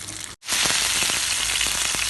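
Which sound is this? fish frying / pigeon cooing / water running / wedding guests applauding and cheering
fish frying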